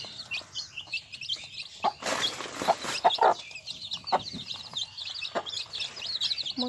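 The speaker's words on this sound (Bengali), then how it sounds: "মুরগির বাচ্চাগুলো প্রায় 10-12 দিন হয়েছে বয়স।" Desi chicks about ten to twelve days old cheep and peep inside a small carton, a dense run of close, high chirps with a few louder fluttering bursts and scratches near the middle.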